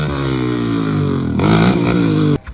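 A freshly rebuilt motorcycle engine revs hard and loud up close, holding a steady rising drone with one sharp jump in pitch before cutting off abruptly near the end.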